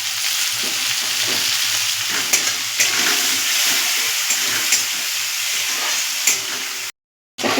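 Chopped tomato goes into a pan of frying onions in hot oil, giving a loud, steady sizzle close by with occasional stirring clicks, then a brief cut to silence near the end, with no talking.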